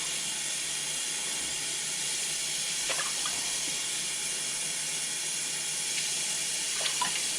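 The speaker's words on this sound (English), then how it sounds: "That's 4 cups of water." Four cups of water run steadily from a tap into a cooking pot, a constant soft hiss with a few faint clinks, with no voices.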